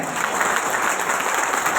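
An indoor audience claps together in a dense, steady burst of applause that runs evenly from start to finish, with no voices standing out.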